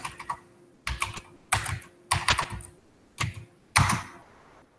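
Typing on a computer keyboard in several short, quick bursts of close, crisp key clicks with brief pauses between them.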